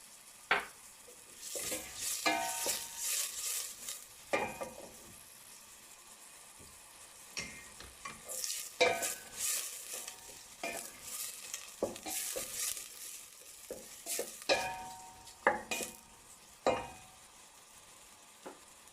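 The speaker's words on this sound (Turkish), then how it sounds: "Orta boy bir tane soğanım var. Onu koyalım. Kavuralım ikisini birlikte." Onion and butter sizzling in a pan while being stirred for carrot soup, with irregular scraping and clinking of the utensil over a steady frying hiss, close and moderately loud, no talking.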